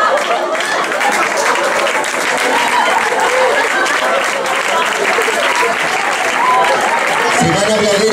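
Dense, loud audience applause at a live hypnosis stage show, steady and continuous throughout, with crowd voices mixed in beneath the clapping.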